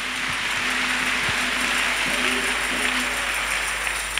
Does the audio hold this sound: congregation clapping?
yes